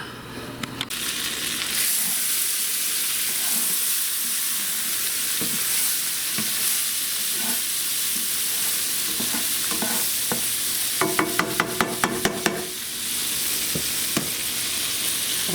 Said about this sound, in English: Alright, butter's melted. Put our eggs in there.